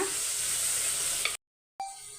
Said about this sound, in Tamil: தயிர் ஊற்றி மிக்ஸ் பண்ணிக்கோங்க